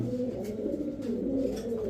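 Pigeons at a seller's stall coo in low, throaty rolling tones, several birds overlapping close by in a continuous murmur.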